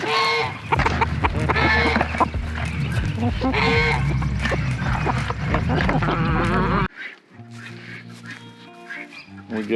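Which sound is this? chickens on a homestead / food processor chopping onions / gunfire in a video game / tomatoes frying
chickens on a homestead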